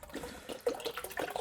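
Water pours and splashes into an aquarium filter during a fish tank water change, an irregular gurgling trickle, close and fairly quiet.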